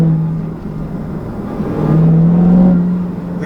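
A 2016 Dodge Challenger Hellcat with a six-speed manual pulls hard in second gear, its supercharged engine droning low and loud, the pitch climbing steadily over a few seconds with no talk.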